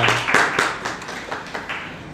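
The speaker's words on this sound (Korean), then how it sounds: "하나님께 영광의 박수 올리겠습니다." A church congregation claps during a Friday prayer meeting, the claps coming as a loose, uneven handful of sharp hits that soon thin out, fairly close, with no talking over them.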